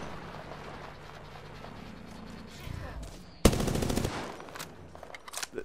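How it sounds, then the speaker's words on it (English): Automatic gunfire in the battle royale game Apex Legends during a season 3 match, a loud burst of rapid shots cutting in sharply after low game ambience, with scattered further shots trailing off. "Oh, we're being shot from both sides."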